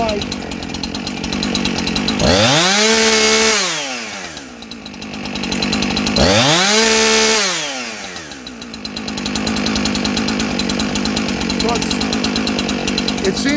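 A Husqvarna 372xp chainsaw engine idles steadily, with two blips of the throttle rising and falling in revs before settling back to a rough, close, continuous idle.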